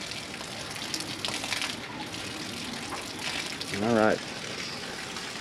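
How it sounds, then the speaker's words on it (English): Bilge pumps on a 1996 Tiara 4000 Express Cruiser running and pushing out water, a steady rushing gush in the background with someone speaking briefly partway through. "our bilge pumps are all on. And they appear to be bilge pumping"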